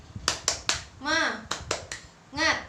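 Children in a classroom do a rhythmic clapping chant: sharp claps in a quick pattern alternate with short sung shouts, near and clear.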